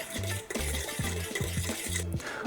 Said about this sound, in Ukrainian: Додаємо масло в наш крем і гарненько його перемішуємо, щоб воно повністю-повністю розтворилося